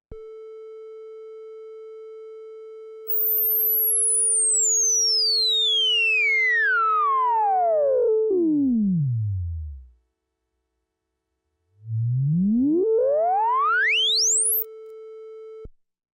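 A Minimoog synthesizer oscillator holds a steady tone while its filter cutoff is swept fully open and back down, the brightness gliding smoothly downward until the tone dies away, then sweeping up again; clean, loud and alone.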